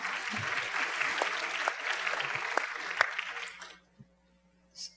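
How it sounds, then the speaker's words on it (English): An audience at an alternative media event breaks into dense, steady applause for several seconds that fades out abruptly, leaving near silence apart from a brief faint noise at the end. "We can clap."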